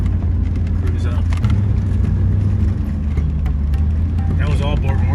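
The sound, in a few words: Range Rover driving uphill in low gear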